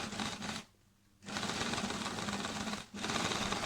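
An electric sewing machine runs steadily after a loose nut is tightened, whirring continuously with a brief pause near the middle and another short dip just before the end, close and alone.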